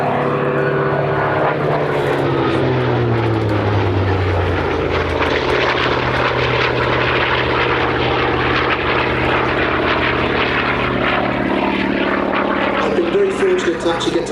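A Hawker Fury FB.II propeller fighter drones loudly and steadily overhead at Sywell Airshow 2024, its engine pitch gradually rising, with indistinct voices faintly underneath.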